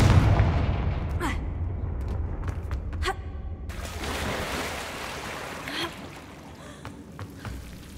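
A Confringo fire spell in Hogwarts Legacy detonates as a loud blast at the start, with a roaring rumble that fades into quieter game ambience and scattered small impacts.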